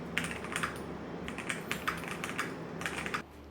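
Rapid clacky keystrokes on a custom mechanical computer keyboard in a gaming room, bursts of close, crisp taps with brief pauses, ending in a short stop.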